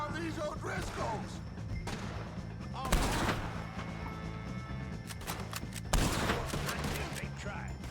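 Gunfire in Red Dead Redemption 2 during a shootout with O'Driscolls: scattered shots at varying distances over a steady background, with two heavier blasts standing out, under faint voices.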